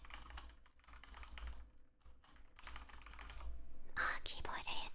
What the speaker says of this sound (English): keyboard ASMR.